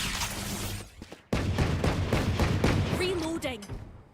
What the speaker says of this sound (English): Three gunshots